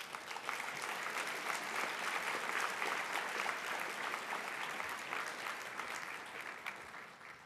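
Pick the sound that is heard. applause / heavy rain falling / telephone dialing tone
applause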